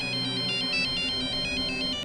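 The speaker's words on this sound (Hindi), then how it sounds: "उसने सबसे पहले मुझे ही कॉल किया था।" A phone ringtone for an incoming call plays loudly and alone in a repeating electronic melody of short tonal bursts, steady in level throughout, in a crime drama scene.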